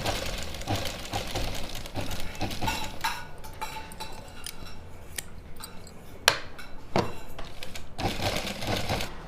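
A sewing machine stitches a suit in bursts of rapid mechanical chatter. Sharp clicks and cloth-handling knocks fall between the runs. Nobody speaks.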